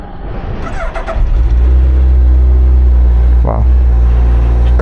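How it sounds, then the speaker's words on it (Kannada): A Suzuki Hayabusa inline-four motorcycle engine firing up on a cold start, then settling into a loud, steady, close idle with a brief blip partway through. "ಇನ್ಲೈನ್ ಫೋರ್ ಸೌಂಡ್ ಕೇಳಿಸ್ಕೊಳೋದಕ್ಕೆ ಒಂದು ಮಜಾ"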